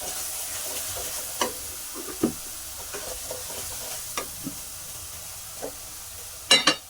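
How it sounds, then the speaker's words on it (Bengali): Spices and salt for chicken curry fry in a pan with a soft, steady sizzle, broken by intermittent scraping stirs and a couple of sharper clanks near the end. "ভালো করে মশলাটা কষিয়ে নেব"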